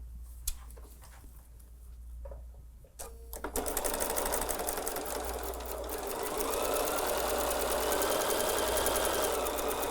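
A sewing machine stitches a Christmas quilt block, starting after a few soft handling taps and then running in a fast, steady mechanical whir close by for the rest of the time.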